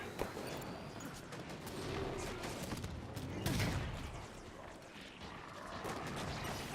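Dense gunfire from the Halo 5: Guardians campaign, rapid shots crackling continuously for several seconds at a steady moderate level, with brief impacts mixed in.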